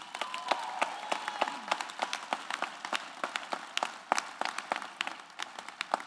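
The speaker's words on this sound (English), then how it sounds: "Give her a round of applause for her accomplishments." Scattered, fairly distant applause in a large hall at a university student-athlete convocation honoring a women's basketball player; sharp individual claps spread out over several seconds with light crowd murmur.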